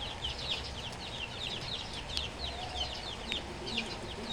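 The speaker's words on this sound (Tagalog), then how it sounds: "papakainin ko muna to si Pacquiao" Gamecock rooster clucking steadily in repeated soft chirping bursts over continuous outdoor background noise, fairly close and with no talking.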